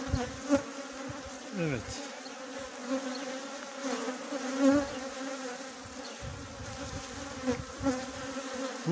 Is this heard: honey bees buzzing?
yes